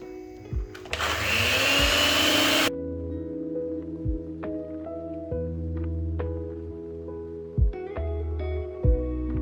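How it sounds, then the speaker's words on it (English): An electric hand mixer whirs loudly through mashed potatoes for a couple of seconds, then stops, leaving a low steady kitchen hum with occasional soft clinks. "this is the point that I go in with my hand mixer just to make everything blend in well together."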